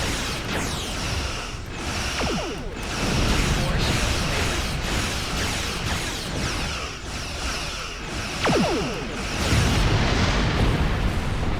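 Dual cannons on a Europa heavy Starfleet starship fire in Star Trek Online, space combat booming in loud repeated bursts over a dense rumbling game mix, with whooshing sweeps between volleys.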